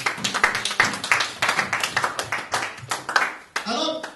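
A church congregation claps and applauds together, a dense run of many hand claps with scattered voices mixed in, fairly close and steady, with a short cheer rising near the end.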